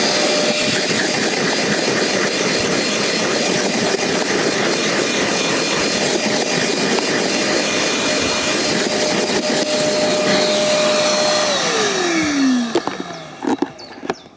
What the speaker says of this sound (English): Now the first thing you want to do is vacuum the carpet